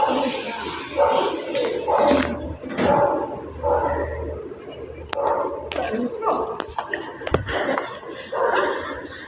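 A dog barks and yips in short bursts amid voices talking over it, the barks sharp and mid-distance, scattered irregularly through the scene.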